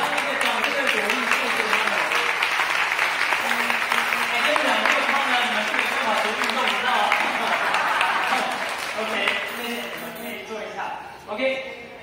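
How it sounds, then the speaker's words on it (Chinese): Sustained applause from wedding guests for the groom's family during his thank-you speech, many hands clapping steadily and fading toward the end, with voices mixed in. "给他一个掌声的鼓励"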